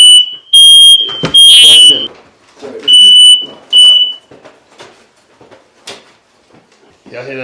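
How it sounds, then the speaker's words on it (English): A shrill electronic alarm beeps in several loud, steady bursts, with a person talking between and after the tones. "Y'all hear that alarm went off?"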